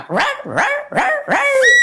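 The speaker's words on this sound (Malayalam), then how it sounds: "നമ്മുടെ താഴത്തെ കരുണാകരൻ സാറിന്റെ വീട്ടിലൊരു പോമറിനെയും പട്ടിയെ കൊണ്ടിട്ടുണ്ട്, സുലോചന." A Pomeranian dog barks four times in quick succession, loud and close, with short sharp yaps and no talk over them.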